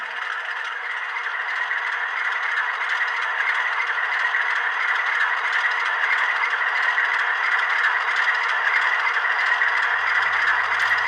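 A Bowser HO scale Alco RS3 model locomotive in Pennsylvania Keystone livery runs slowly on its first outing, giving a steady, even mechanical whir and rattle of a small motor that holds constant from start to finish.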